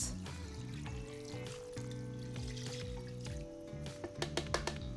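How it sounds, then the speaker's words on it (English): Water poured into a cooking pot holding stock ingredients, a close steady pouring stream with gurgling, ending in a few separate splashes. "So I'm just adding the water enough to cover everything that's in my pot."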